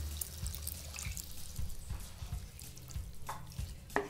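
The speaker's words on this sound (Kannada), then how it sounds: "ಈಗ ಇದಕ್ಕೆ 1 ಕಪ್ ನೀರು ಹಾಕ್ಕೊಳ್ಳೋಣ." A cup of water poured into a Kerala-style dry fish curry masala in the pan, heard as close splashing and trickling with dripping spatters over about four seconds, no voices.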